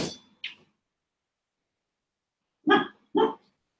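A dog barks sharply a couple of times, falls silent for a couple of seconds, then gives two more quick barks close by.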